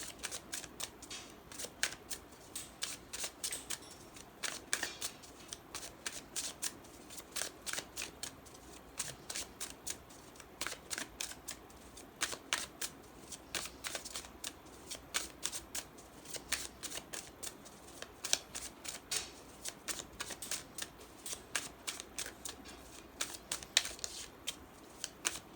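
A deck of tarot cards shuffled by hand, a steady run of soft, rapid riffling and slapping bursts repeating for a long stretch, close and fairly quiet, with no talking.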